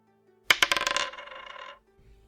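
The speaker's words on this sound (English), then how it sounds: "Roll the dice." Dice tumble across a table during a tabletop role-playing game, with a sharp first impact, a few quick bounces, then a dense rattling roll of about a second that stops abruptly, heard alone.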